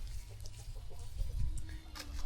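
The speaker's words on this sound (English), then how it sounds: "There goes the rooster." A rooster on a homestead farm clucks and calls in short bursts against a steady low rumble, fairly close, with a few higher squawks toward the end.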